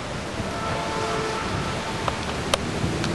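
Heavy rain pours steadily during a severe storm in Schoolcraft, Michigan, a dense close hiss with a few sharp drop impacts near the end and no voices.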